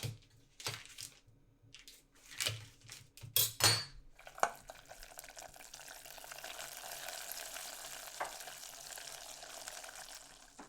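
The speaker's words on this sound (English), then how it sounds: "Delicious sputtering." Butter sputtering as it is stirred into hot caramel for monkey bread, a steady crackling fizz after several sharp clinks of pans and utensils at the start, close and moderately loud with no talking.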